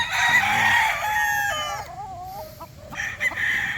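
A Boston Black breeder rooster crows loudly and close at a farm, its long harmonic call rising and falling, followed by a few softer clucks.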